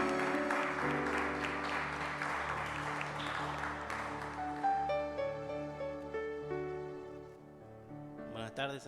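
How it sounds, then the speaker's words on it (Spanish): A church congregation applauds during a Sunday service, clapping blended with sustained music and keyboard tones that fade out near the end. "Dile un fuerte aplauso a nuestro Señor"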